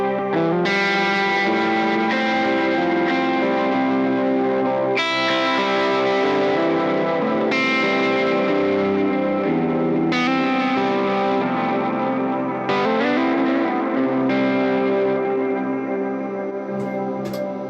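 Electric guitar chords ring out through stacked distortion, chorus and echo pedals including an H90 and LVX, each strum sustaining and fading before the next, about every two to three seconds.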